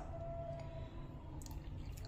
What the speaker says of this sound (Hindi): मैं थोड़ा सा इसमें पानी डाल रही हूँ